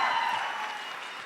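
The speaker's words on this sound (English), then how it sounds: "So let's give them a big round of applause and thank you for your contributions." Audience applause for guests leaving the stage at a Harry Potter celebration's opening night event, a steady broadband clatter of clapping that fades slightly over about a second.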